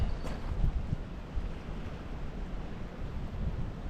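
Wind gusting across open water near a coastal nature preserve, a steady low rushing roar with buffeting on the microphone and faint lapping underneath, no voices.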